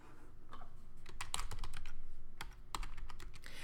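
Rapid, uneven keystrokes clatter on a computer keyboard as an email address is typed, close and clear with no talking, a short pause breaking the burst near the end.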